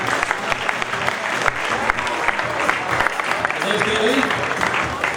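Steady crowd applause fills an audience at a swimwear fashion show, with continuous loud clapping mixed with voices and some cheering throughout.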